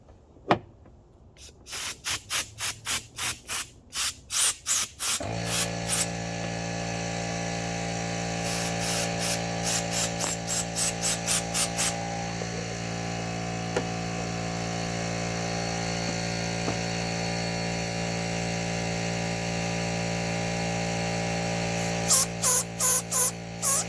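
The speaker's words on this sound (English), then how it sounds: "Excuse the air compressor." Air compressor running near an open car hood while a windshield washer nozzle and hose line are cleared, a steady loud motor drone preceded and punctuated by rapid clicking or puffing bursts.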